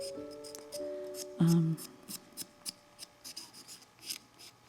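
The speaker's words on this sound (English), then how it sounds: "I'm just going to do a little bit of shaping with an emery board" An emery board sands hardened clay, giving a series of short, close, dry rasping strokes in an irregular rhythm after a brief squeaky tone.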